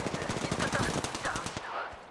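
Video game gunfire rattles in dense, rapid automatic bursts, loud and close throughout, with brief radio-like voice chatter mixed in.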